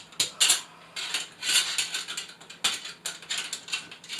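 Spring clips on an LED recessed ceiling light snap and ratchet into place, giving a quick series of sharp, close mechanical clicks in short bursts with no talking.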